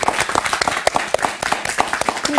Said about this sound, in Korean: 일단은 박수를 또